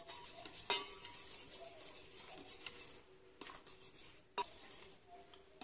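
Egg mixture with salt being stirred in a bowl, soft scraping swirls punctuated by a few sharp clinks of utensil against the bowl, close and quiet with no talking.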